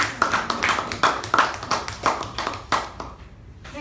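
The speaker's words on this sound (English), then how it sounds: "a huge round of applause for all the TAPG roles" A small Toastmasters meeting audience applauds in a short round of fairly sparse, rhythmic claps, close and moderately loud, which fades out at the end.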